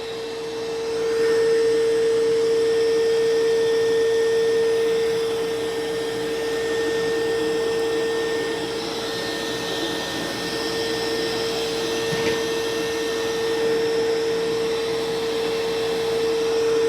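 Mova Z60 robot mop vacuum running steadily at ramped-up suction, a continuous loud whir with a constant tonal whine, swelling slightly early on and holding level throughout, with no talking.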